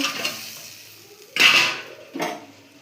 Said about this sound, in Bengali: এবার এই মাছগুলো দিয়ে নাড়া দিলাম।